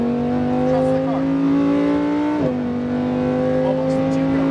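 A car at full throttle on the Las Vegas Motor Speedway road course, engine holding a steady loud drone whose pitch climbs, dips briefly at a shift, then keeps pulling, with a coach talking over it.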